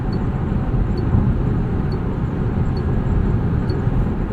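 Steady, low broadband wind and road rumble inside a 2025 Lucid Air Touring sedan cruising at 80 mph, a constant cabin hum with no talk.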